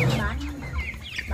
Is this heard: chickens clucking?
yes